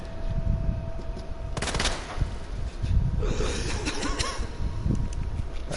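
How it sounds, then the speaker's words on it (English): Shotgun blasts from a Resident Evil 2 Remake playthrough, several heavy booming shots with sharp attacks, loud and close over continuous game noise and rumble. "We haven't used our shotgun in a while. So I'm gonna blow his head away."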